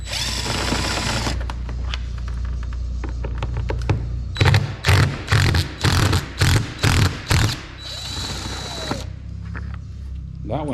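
An impact wrench removes the roof rack bolts of a GMC Yukon in a rapid series of about six short, loud hammering bursts, after a stretch of talk and handling noise, with more voices afterward.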